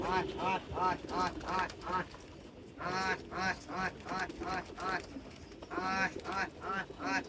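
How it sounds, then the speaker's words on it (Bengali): On a small rooftop pigeon loft, pigeons come in while their keeper calls them with a rapid series of repeated, rhythmic vocal calls in short bursts. The calls are loud and close over outdoor background noise. "ওস্তাদ ডাকতেছে কবুতরগুলোরে কবুতরগুলো ঢুকতেছে"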